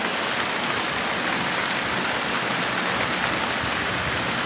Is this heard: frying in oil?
no